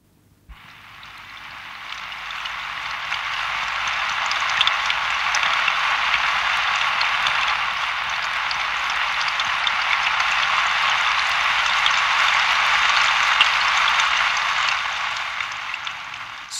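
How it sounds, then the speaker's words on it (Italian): Heavy rain pouring down steadily, a dense, even hiss that swells in and holds at a constant level without pause. "Scroscio di piogge."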